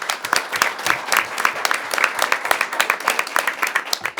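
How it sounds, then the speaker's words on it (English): A school board meeting audience gives a round of applause for outstanding educators, with brisk, dense clapping from many hands, steady and moderately loud throughout the short burst. "can we just have another round of applause for our 4 outstanding educators this year?"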